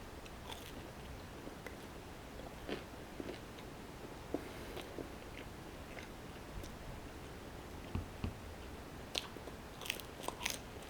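Yuca fries from a Peruvian meal being bitten and chewed close up, with soft crunchy bites and mouth sounds scattered through a quiet stretch and no talking.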